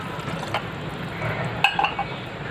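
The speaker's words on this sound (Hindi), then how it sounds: "इसमें मैं पानी ऐड करूँगी।" Water poured into a pan of kulith (horse gram) dal in a home kitchen, a soft steady liquid pour with a few faint clinks of a glass or utensil against the pan.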